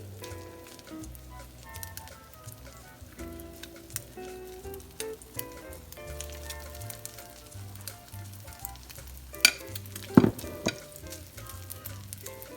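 Chicken tortitas fry in a pan with a quiet, steady sizzle and soft crackling, broken by a few light spoon clinks and taps near the end.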